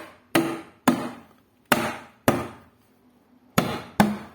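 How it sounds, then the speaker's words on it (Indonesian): A rubber mallet hammers a lid shut on a can of roof paint, six sharp thuds in an uneven rhythm, close and loud with short decays and silence between, no talk. "Biasanya kami menggunakan palu karet untuk menutupnya"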